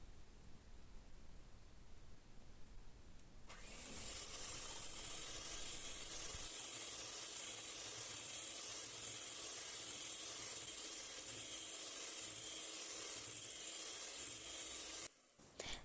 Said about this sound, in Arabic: ونستمر في الخفق.